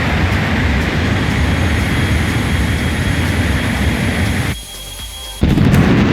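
An F-14 jet in a flight simulator game roars steadily as it accelerates toward the sound barrier, a loud sustained engine rush that dips briefly before surging back.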